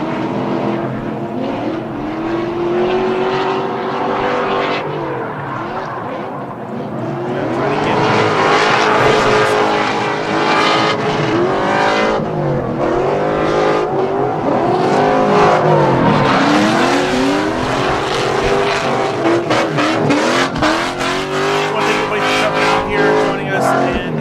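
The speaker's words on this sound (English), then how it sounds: "Kenyon Ross spinning out in the chase position, not doing himself any favors" Drift cars at the LS Fest West drift challenge roar through high revving engine notes that rise and fall, with squealing tires and skids, loud and close, while an announcer talks over them.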